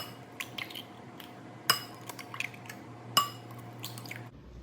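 Farm fresh eggs are cracked into a bowl, with two sharp clinks against the rim standing out among softer taps and wet drips in a quiet kitchen.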